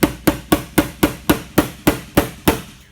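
A small hammer strikes a car headlight about eleven times in a steady, evenly spaced series of sharp, loud knocks, close up with no talking.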